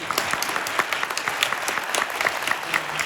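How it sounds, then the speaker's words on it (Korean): Event attendees at a Korean civil engineering day quiz gathering break into applause, a crowd of hands clapping briskly and evenly, fairly close, with no speech over it. "박수 한번 부탁드립니다"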